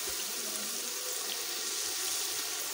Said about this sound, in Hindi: अब मैं ऐड करने लगी हूँ इसमें पानी